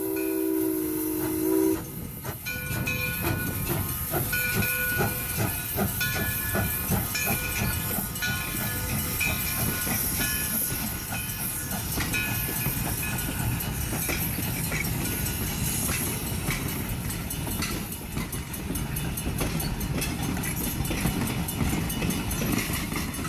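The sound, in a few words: train stopped with hissing steam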